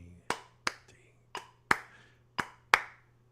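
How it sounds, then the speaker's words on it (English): Sharp hand claps in a triplet swing feel, landing on beats two and four each followed by an upbeat clap, seven crisp close strikes in pairs with a soft low hum behind. "So I'm just clapping beat 2 and the upbeat after it, and beat 4 and the upbeat after it in a triplet feel"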